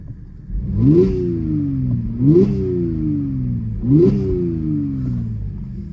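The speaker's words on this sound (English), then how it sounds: "I'm going to give it a very quick rev for you so you can hear it for yourself." Three quick, sharp revs of a 2013 Audi S5 Quattro's turbocharged V6 engine, each jumping up and then dropping back to a steady idle, close and clear with no talk.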